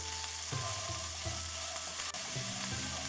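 Garlic sautéing in a pan for chicken and vegetable lo mein, a steady close sizzle with a few soft stirring scrapes and no voices.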